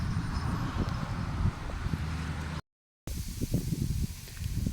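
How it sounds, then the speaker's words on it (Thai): Wind sweeps through a rice field, a soft rustling hiss with gusty buffeting on the microphone, steady and fairly faint, briefly dropping out before the rustle resumes. "ลมพัดมาแล้ว"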